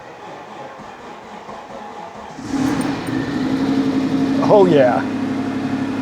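A Citroen XM engine cranking and catching midway, settling into a steady noisy idle close by, with a man's brief exclamation over it.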